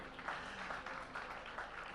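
Applause from a seated audience at a literary festival panel on Indian democracy, a soft steady patter of many hands heard from a distance, fairly faint throughout.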